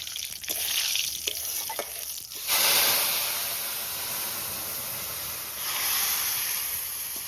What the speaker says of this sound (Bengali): গরম তেলের মধ্যে দিয়ে দিচ্ছি গোটা জিরে তেজপাতা